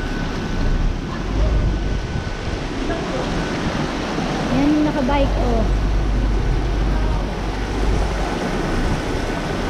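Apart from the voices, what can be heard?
floodwater surging along a coastal road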